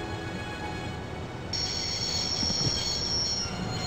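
Train rumbling along in the video game Broken Sword: The Shadow of the Templars, a steady loud roll joined partway through by a sustained high metallic squeal of wheels.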